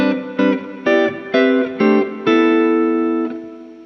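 Electric guitar played through a reverb effect pedal into an amplifier: six sustained chords strummed at a steady pace, each with a lingering wash of reverb, the last one left ringing and slowly fading out.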